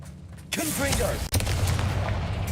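A Confringo blast spell goes off in an abandoned mine in the video game Hogwarts Legacy, a loud burst that then rolls on as a sustained booming rumble.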